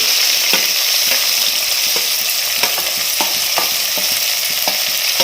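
Onions and green chillies frying in a pan, a loud continuous sizzle close up. Quick spatula scrapes and taps come at irregular intervals throughout, with no voices.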